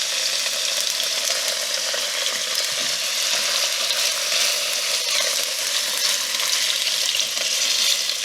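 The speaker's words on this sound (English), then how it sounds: "Pork chops in" Pork loin chops sizzle loudly and steadily as they brown in a pan over medium heat on an electric hob, a dense continuous frying hiss with no voices.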